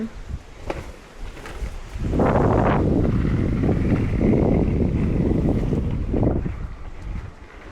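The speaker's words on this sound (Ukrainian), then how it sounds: "Он який вітерець." Wind blows outdoors in gusts, buffeting the microphone with a loud low roar that swells after a quieter start and holds for several seconds before easing; a few faint clicks sit underneath.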